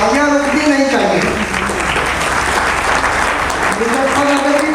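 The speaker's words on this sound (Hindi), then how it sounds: "तालियां रुकनी नहीं चाहिए," Loud audience applause fills a gathering for a visiting spiritual teacher in Muzaffarnagar, steady clapping throughout, with a voice speaking over it at the start and again near the end.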